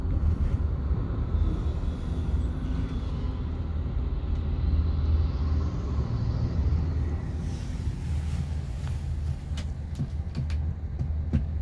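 A car drives through city streets in Linz, Austria, giving a steady, loud rumble of engine and road noise throughout with no break and no voices.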